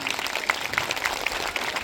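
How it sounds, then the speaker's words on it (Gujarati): An audience applauds at a week-long religious gathering at Shri Bageshwar Mahadev in Simani, producing a steady, moderately faint patter of claps with no talking. "આપણી બધાની તાળીઓને ગડગડાટથી વધાવી લઈએ"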